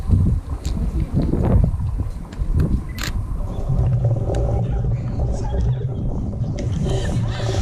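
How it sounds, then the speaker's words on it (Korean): Strong gusty wind buffets the microphone outdoors at Osaka Castle in January, a continuous low roar with louder gusts throughout, and a voice is faintly audible under it. "지금 바람 부는 거 봐"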